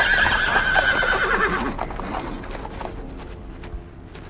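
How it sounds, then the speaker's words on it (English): Horses whinny loudly in the World War II shooter Brothers in Arms: Earned in Blood, a high neigh up close followed by the faster clatter of hooves galloping along a road as the sound fades. "Sir, I hear horses coming down the road"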